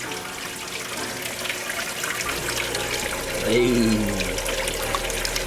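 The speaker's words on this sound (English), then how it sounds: "So you can hear the water now. It's going through." Water running through a hydroponic Tower Garden, a steady loud splashing trickle throughout, with a brief low tone and a short spoken word over it.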